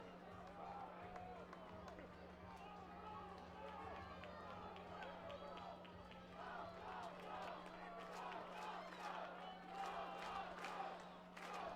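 Baseball crowd chanting in rhythm during a finals game between the Regina Red Sox and Sylvan Lake Gulls at Sylvan Lake, a distant mass of voices and cheering under a steady hum, with a commentator talking over it.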